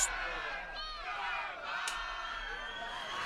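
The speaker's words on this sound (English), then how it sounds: "The crowd give him plenty of what for as he comes off here now." Spectators at a first-grade Orara Valley versus Woolgoolga rugby league match jeer and call out as a player leaves the field after being sent to the sin bin, a steady wash of crowd noise with a few louder shouts and whistles rising above it.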